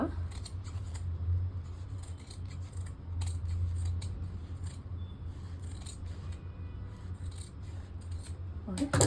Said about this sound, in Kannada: ಸ್ವಲ್ಪ ಟ್ರಿಮ್ ಮಾಡ್ಕೊಳ್ಳಿ ನೀಟಾಗಿ ಟ್ರಿಮ್ ಮಾಡ್ಕೊಳ್ಳೋಣ